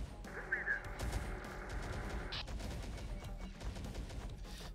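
Gunfire in Terminator Dark Fate Defiance aimed at a transport platform near a Humvee: scattered shots and bursts crackle through a busy battle mix, one sharp burst standing out midway.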